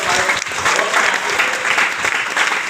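Loud, dense applause from a crowd fills a Vestige business meeting, continuing steadily without a break.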